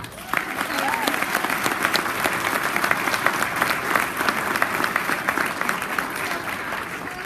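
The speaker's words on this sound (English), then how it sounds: "So give her a round of applause." An audience applauds for a photographer at a charity modeling event, with dense steady clapping that fills the clip, some whoops and a few voices mixed in.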